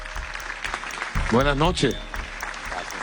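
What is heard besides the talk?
audience applause for a speaker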